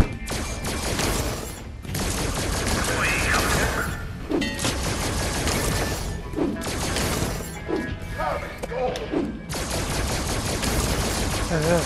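Rapid bursts of gunfire from FNAF Help Wanted 2, loud and dense, with crashes and shattering mixed in, broken by brief pauses, with someone talking over parts of it.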